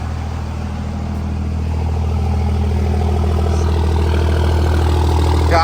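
A second-generation pickup truck engine idles steadily and close by while warming up after a misfire repair, a low, even rumble with no talk.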